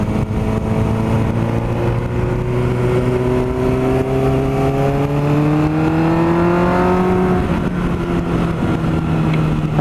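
A Suzuki GSX-R 600 K4 sport motorcycle engine revs loudly and close, its drone climbing steadily in pitch before dropping back to a rougher idle.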